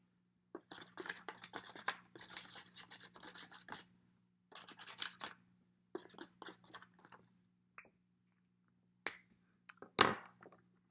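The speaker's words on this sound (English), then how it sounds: "We are going to use the first color to just color on top of the crumpled pieces." A marker scrubs and rubs over crumpled paper in short bursts of dry, scratchy strokes, quiet and close, separated by pauses, with a sharper crinkle near the end.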